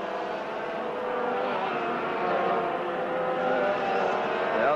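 A race car, a 1987 touring-class machine, comes around the circuit to finish a lap. Its engine drones steadily and grows slightly louder as it nears, a continuous mid-distance roar with no clear speech over it.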